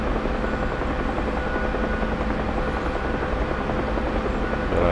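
Helicopter flying in the combat flight simulator DCS World, a steady loud rotor and engine drone with even chopping, continuous and alone.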